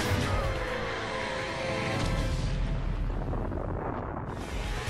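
A huge explosion from Raiden's blast in the Mortal Kombat video game, a dense sustained roaring rumble with heavy low end that fills the whole stretch at a loud, steady level.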